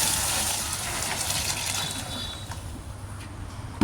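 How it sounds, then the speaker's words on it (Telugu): Hot water gushes into a tub for soaking stained white clothes along with booster powder and enzyme detergent, a continuous splashing pour that eases slightly toward the end. "నెక్స్ట్ హాట్ వాటర్ యాడ్ చేసాము."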